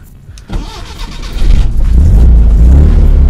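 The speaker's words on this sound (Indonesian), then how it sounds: "Kita nyalakan mesinnya." A 1976 Toyota Corona Deluxe cranks briefly, then catches with a little throttle and settles into a loud, close, rumbling idle that holds steady.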